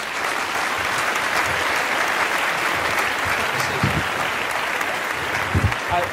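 Warm, steady applause rolls through an awards ceremony audience for a winner, dense clapping throughout with a voice faintly audible underneath.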